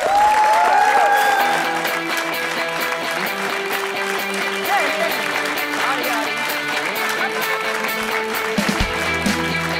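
A studio audience on a sports-themed entertainment show applauds loudly and steadily for several seconds, the clapping blending with music and crowd noise.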